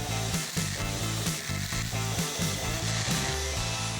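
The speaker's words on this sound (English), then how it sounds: "we're gonna hit it with a 7-inch air grinder and a 36 grit sanding disc" A 7-inch air grinder with a 36 grit sanding disc cleans up tear-out and shapes the rounded corners of a Camaro's aero splitter, a loud continuous grinding roar with a steady pulsing rhythm.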